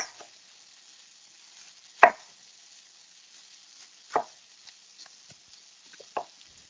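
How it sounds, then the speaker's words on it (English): A knife cutting down the sides of an apple onto a cutting board, three or four distinct crisp chops spaced a couple of seconds apart with a few softer taps between, close and otherwise quiet. "I'm just going to cut down all four sides of my apple like this"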